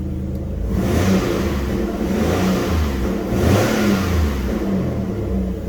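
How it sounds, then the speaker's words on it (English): A Holden Commodore engine with 88,000 miles revs up loudly and holds at high revs, then swells again, a close, continuous mechanical roar with no talking. "Engine sounds pretty good."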